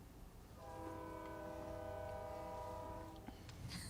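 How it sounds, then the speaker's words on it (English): A train sounds its horn in one long, sustained blast from a distance, over a low rumble of rail traffic. "I hear that train coming."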